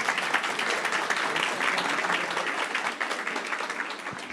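A seminar audience applauds steadily for a doctor, a dense, continuous wash of many hands clapping at even loudness throughout, with no voices breaking through.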